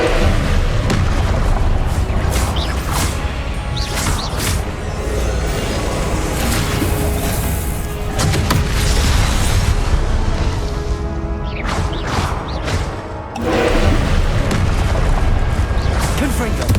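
Repeated booming Confringo blasting-spell explosions in the Hogwarts Legacy video game, loud continuous bursts layered over combat noise and music, with a brief lull before the blasts resume.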